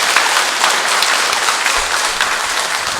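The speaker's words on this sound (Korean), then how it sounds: "우리 이분들 환영의 박수를 보내줍시다" A church congregation claps in warm, continuous applause to welcome visiting tourists during Mass, a dense steady patter filling the room for a few seconds with no voices over it.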